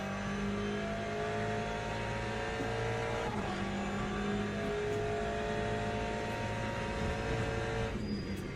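A video game race car engine, an Aston Martin Valkyrie, drones and revs continuously at high pitch, steady and loud, with a slight shift in tone near the end.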